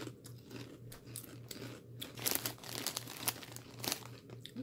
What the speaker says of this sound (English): I'm sure y'all just love watching us chew.